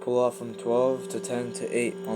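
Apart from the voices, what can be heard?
No everyday noise stands out behind the speech.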